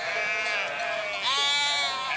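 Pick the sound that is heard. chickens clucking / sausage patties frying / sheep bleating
sheep bleating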